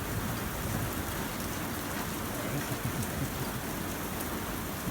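Heavy thunderstorm rain pours steadily during a severe supercell storm near Clermont-Ferrand, Auvergne, a dense, continuous close hiss with low rumbling thunder beneath it and no speech.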